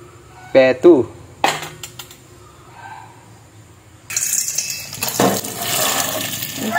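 Alingatong herb leaves washed by hand: a few sharp clinks of a container come first, then a fuller stretch of splashing, running water in the second half, all close by.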